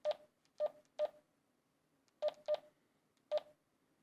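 A DMR handheld radio sends DTMF keypad tones as a number is entered manually: six short, clear beeps in two groups of three separated by a pause, close and quiet, with no talking.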